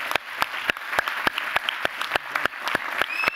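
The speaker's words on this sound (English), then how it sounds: "Could you give everyone a big round of applause" An audience claps steadily, a dense patter of many hands with sharp individual claps standing out throughout.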